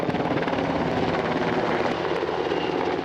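Cal Fire Fire Hawk firefighting helicopter flying close by, a loud, steady rotor thrum and engine roar sustained throughout with no voices.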